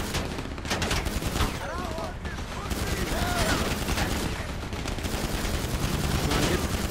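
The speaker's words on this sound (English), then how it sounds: "Here we go, a little more shooty shooty bang bang." Rapid bursts of gunfire fill a GTA 5 Online gunfight, dense overlapping shots rattling continuously with a voice faintly present beneath.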